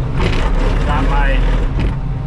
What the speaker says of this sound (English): gravel being delivered. Dropping the second load off of the day.